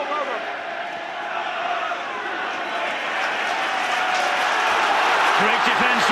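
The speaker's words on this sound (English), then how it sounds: "listen to this crowd" A rugby league stadium crowd at a St Helens v Wigan match roars as a continuous broad wash of noise that slowly swells louder, with a commentator's voice running over it.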